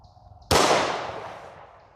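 A single sharp shot from a full-size S&W M&P .40 pistol firing Speer Gold Dot 165gr JHP rounds cracks loudly outdoors, then rings out in a long decaying echo.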